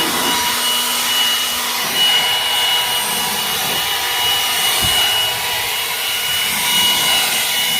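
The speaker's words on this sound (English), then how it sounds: "that blower works pretty good" A blower cleaning dust off a combine in a farming video game, a steady loud broadband whoosh that holds evenly throughout with slight swells.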